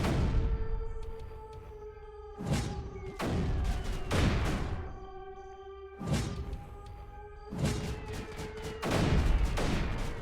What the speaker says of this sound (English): Mortars did their job.